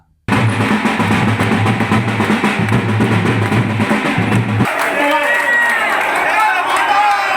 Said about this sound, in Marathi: आमदार सुलभा खोळके यांच्या जनसंपर्क कार्यालयात जल्लोष व्यक्त करण्यात आला